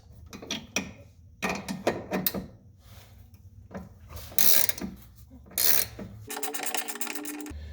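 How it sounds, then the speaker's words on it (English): A ratchet wrench turns a nut while coilovers are installed on a G37: repeated close ratcheting strokes in uneven bursts, with two louder, sharper rasping pulls and a constant low mechanical hum underneath. "Let's actually switch wrenches."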